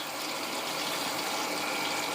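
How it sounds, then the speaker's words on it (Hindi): Water streams steadily into a cooking pot while making biryani, a continuous close hissing gush that runs throughout without pause. "पानी डालेंगे इसके अंदर"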